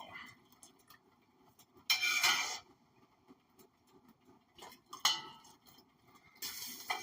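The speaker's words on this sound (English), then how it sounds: "Keep whisking." Turkey gravy base being whisked as stock goes into the pan, with bursts of brisk scraping and rubbing against the pan separated by quieter low stretches.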